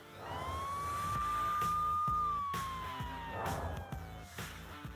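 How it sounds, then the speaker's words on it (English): An emergency vehicle siren wails in a single long rising and falling sweep, heard at a moderate distance under a low road and engine rumble, with a few scattered knocks. "12-year-old Ryan has come in by ambulance with a nasty neck injury"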